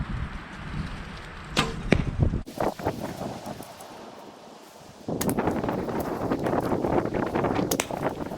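Arrows loosed from a recurve bow during outdoor target practice on a cold, windy day, giving a few sharp string snaps and thwacks spaced apart, up close over wind rustle and microphone buffeting.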